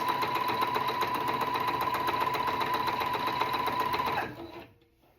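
A sewing machine with a standard foot stitches through three layers of a rag quilt. It runs as a steady, rapid whirring hum for about four seconds, then slows and stops.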